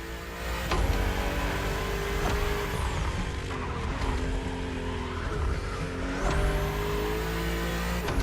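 BMW race cars on a narrow track with sharp bends in The Crew Motorfest, engines revving up and shifting through gears in a continuous, fairly quiet racing whine with rising pitch sweeps.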